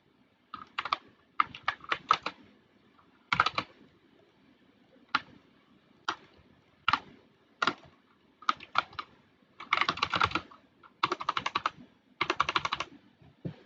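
Computer keyboard typing in short, uneven bursts of keystrokes with pauses between them, close and fairly clear, during a microprocessor programming lesson, with no talking.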